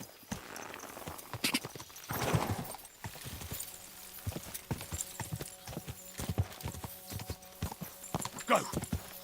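Horse hooves clip-clop in the medieval video game Kingdom Come: Deliverance II, with the steady beat of a horse getting moving. Someone speaks briefly over the hooves, and a short whinny-like sound comes through.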